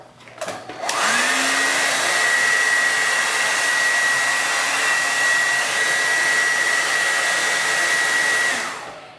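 A hair dryer switches on after a click and blows with a steady, loud whir and high whine for several seconds before shutting off.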